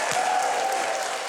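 A studio audience applauds a comedian as he is introduced, a dense, even burst of clapping from the crowd lasting just over a second.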